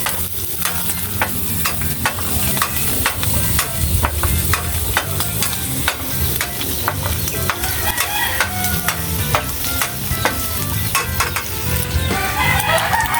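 Garlic sautés in a pan with a busy, continuous sizzle, broken by frequent sharp scrapes and clacks of a utensil stirring it close by, with no talk over it.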